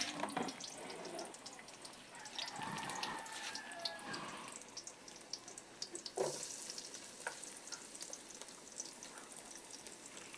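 Garlic added to a pan of sautéing mushrooms, a low steady sizzle with stirring scrapes and a few clinks, fairly faint, no talking.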